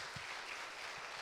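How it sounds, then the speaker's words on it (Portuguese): A congregation at a Saturday church service applauds, a faint, even patter of many hands clapping at a distance. "Vamos aplaudir ao Senhor em nome de Jesus."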